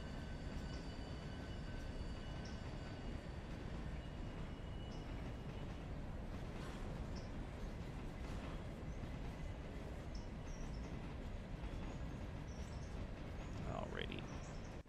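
A C&IM A-1 American 4-4-0 steam locomotive backing down in the railroad game Railroader, a steady rumbling train wash running without pause over the whole stretch, with faint chirping bird ambience and brief high squeals near the end.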